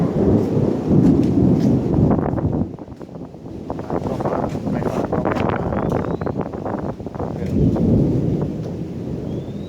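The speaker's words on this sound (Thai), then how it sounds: "ต้องหลบฝนกัน เออฝนมาแล้ว" A thunderstorm rolling in over a riverside home near a canal in Samut Songkhram, with steady loud rain and deep rumbling thunder filling the whole stretch, wind buffeting close to the mic.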